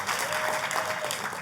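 A church congregation breaks into lively applause during a sermon, a dense wash of many hands clapping together throughout a brief moment, with no voices rising above it.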